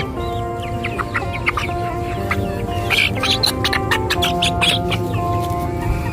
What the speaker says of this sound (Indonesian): Tuh ayamnya di sini banyak sekali nih